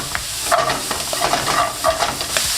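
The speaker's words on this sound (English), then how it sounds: "in the same pan, add a touch of oil with the onions and your garlic" Onions, garlic, carrots and celery sauté in oil in a pan, a close, steady sizzle broken by repeated scraping stirs of a utensil against the pan.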